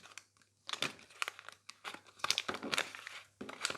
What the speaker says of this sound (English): So what I'm doing is I'm just peeling off that nail form.